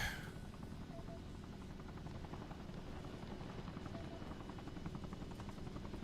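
Steady helicopter rotor drone from a chopper flying in Arma Reforger, a continuous buzzing thrum at even loudness throughout with no talk.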